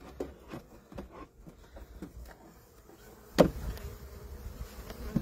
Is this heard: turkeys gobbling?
no